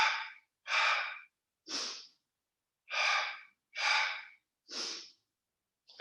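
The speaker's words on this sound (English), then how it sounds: "You can do double exhale out the mouth." Six breaths during a core yoga session, each a pair of exhales out of the mouth. The airy puffs are close and clear, evenly spaced with quiet gaps between them, and no talk.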